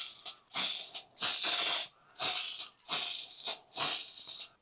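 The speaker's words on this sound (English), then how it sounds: "We're going to give these a couple coats of this beautiful gold spray paint." Can of gold spray paint hissing as salt and pepper shakers are coated: five loud, close bursts of about half a second to a second each, in a steady on-off rhythm.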